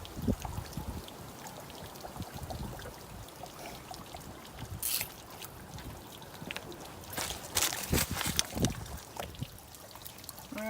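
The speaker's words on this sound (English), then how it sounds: "right, that thing's draining out." Water drains from the tank of a Casita travel trailer during winterizing, a steady quiet trickle and splash that runs continuously with brief louder gushes.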